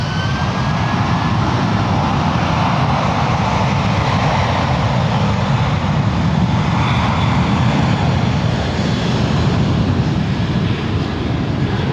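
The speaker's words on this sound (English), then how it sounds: "Departing now is United Airlines Airbus A319, excuse me. Flight 2678 headed to Bozeman." A United Airlines Airbus A319 jet departs San Francisco International Airport, its engines a loud, continuous broadband roar at full takeoff power that holds steady throughout, with no talking heard.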